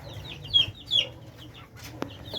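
Newly hatched chicks in a breeding area give a few short, high cheeps close by, mixed with clucking fowl and a brief sharp click, over a low background hum.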